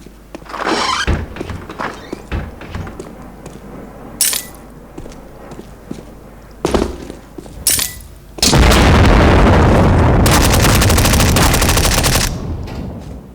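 Gunfire in a shooter video game: scattered loud single shots and short bursts, then a sustained roaring explosion-like blast lasting several seconds, close and very loud, with no talking.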